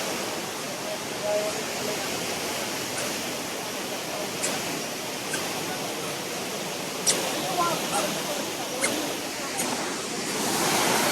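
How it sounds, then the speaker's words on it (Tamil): Water spills down from above at a rain-fed waterfall, a steady broadband rush with a few sharper splashes, heard without talk. "மேலேருந்து தண்ணி அப்படியே சொட்டு சொட்டாக கீழே ஊற்றிட்டு இருக்கு"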